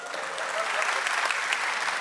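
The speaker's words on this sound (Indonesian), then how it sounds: "Tepuk tangan untuk Dimas." Audience at a stand-up comedy show applauds, a dense steady wash of clapping lasting a couple of seconds without a break.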